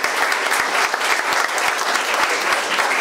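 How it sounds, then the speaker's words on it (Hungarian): Dense, steady applause from a large audience at a Hungarian citera (zither) ensemble gathering, loud and continuous throughout with no gaps. "egy tapsot neki."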